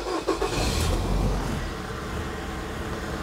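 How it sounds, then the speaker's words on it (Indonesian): A 2010 Nissan Serena C24 Highway Star engine starts and settles into a steady idle, with a brief starter whir at the beginning followed by a continuous, fairly loud low rumble. "Saya akan nyalakan mesinnya."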